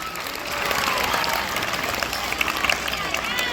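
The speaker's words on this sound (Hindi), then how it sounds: "आप सभी अपने लिए जोरदार तालियां बजाएं" Schoolchildren clap together at an Independence Day celebration at a school, a steady, dense patter of many small hands that carries on throughout, with voices and crowd noise mixed in.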